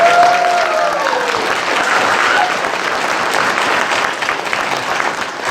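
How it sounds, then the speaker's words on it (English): A convention audience gives a panel a sustained round of applause, with many hands clapping in a thick, even wash that stays loud throughout and a brief voice rising at the start. "let's have another round of applause for our panel."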